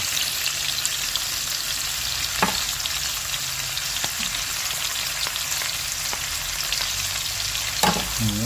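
Soup ingredients including corned beef sautéing in a pan, a dense close sizzle with a few sharp spatula scrapes and knocks, no talking.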